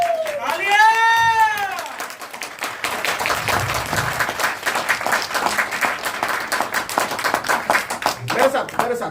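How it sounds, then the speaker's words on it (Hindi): An audience claps at a sales training seminar, a sustained patter of many hands that follows a drawn-out wavering vocal cry, with a voice speaking over the end. "जोरदार तालियां आप सबके लिए।"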